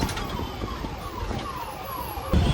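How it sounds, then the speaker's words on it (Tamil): An ambulance siren wails from behind a KSRTC bus travelling near Mysore, its repeating falling tones rising over steady road and engine rumble, with a louder thump near the end. "பின்னாடியே ஒரு ஆம்புலன்ஸ் கத்திக்கிட்டே வருது"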